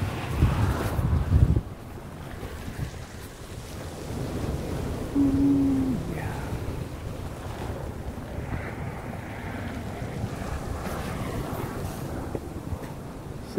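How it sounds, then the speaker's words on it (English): Steady wind buffeting the microphone by the ocean, with low rumbling surf and water washing continuously, a louder gust at the start and a faint tonal hum briefly in the middle. "Here's another look at the ocean."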